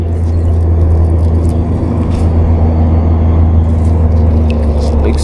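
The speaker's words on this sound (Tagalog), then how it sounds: "Yung mga naririnig nyo pong sasakyan, dito po yan sa expressway yan oh." Steady low traffic roar from vehicles speeding along an expressway at sunrise, a continuous dense rumble heard from nearby with no clear single pass-by and no talking over it.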